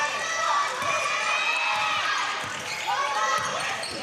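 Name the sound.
basketball game crowd getting louder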